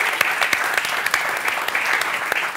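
Audience applause at a Spanish game show, a dense, steady burst of many hands clapping close by with no voices on top.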